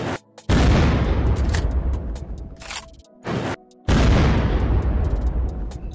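Rocket launcher blasts in the video game Unturned: three heavy booming explosions, the first and last long and rumbling with decaying tails, a shorter burst between, all loud and close with brief gaps of near silence.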